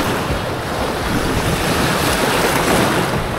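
Sea waves wash in against rocks at a shore, with a loud, continuous hiss and rush of water mixed with wind buffeting the microphone, close by and with no voices.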